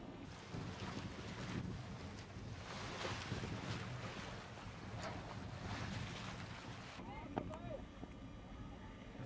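Traditional sailing canoe Vaka Taumako heads out through a lagoon and over the reef into open ocean, with steady wind buffeting the microphone, water washing and sloshing against the hull, and faint voices in the distance.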